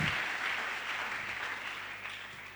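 A congregation at a French-language evangelistic church gathering applauds the Lord with steady, sustained clapping. The applause is moderately distant and slowly fades toward the end.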